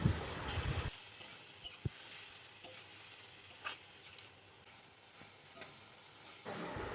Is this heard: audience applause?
no